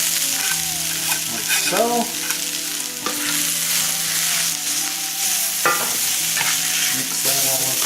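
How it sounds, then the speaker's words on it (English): A burdock sauté with onions and garlic sizzling loudly in a hot pan, with continuous spoon scraping and stirring throughout and a brief spoken remark near the end. "Mix that all up with the onions and garlic and"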